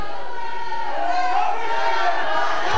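Wrestling crowd at an IZW championship show, a dense roar of chatter and jeering voices that swells steadily and stays loud throughout, with no single voice standing out.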